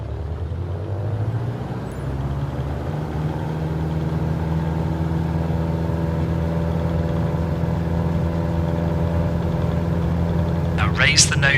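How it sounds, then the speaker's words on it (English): A flight simulator aircraft engine runs at full takeoff power, producing a steady, loud droning hum with layered harmonics that holds constant throughout, ending with a brief higher rattle. "Now apply full power with some right rudder for the engine torque."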